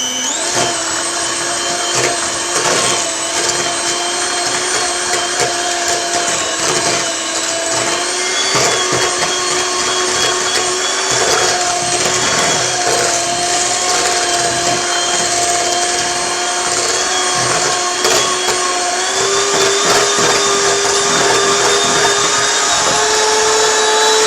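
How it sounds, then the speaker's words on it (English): An electric mixer creams margarine and sugar for an apricot fruit cake, giving a steady high-pitched whirring motor drone that runs unbroken for over twenty seconds, its pitch dipping slightly as the mix thickens, with no voices. "So you cream the margarine and the sugar first of all."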